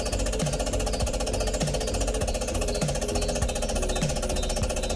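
A restored motor and exhauster from the diesel-hydraulic locomotive D1041 Western Prince, long left outdoors before repair, runs with a steady loud rhythmic knocking chug that continues unbroken throughout, with no talk.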